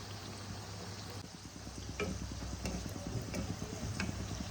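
A Mughlai paratha fries in a pan with a soft, steady sizzle and faint crackle, broken by a few light ticks and stirring clicks, fairly quiet and close.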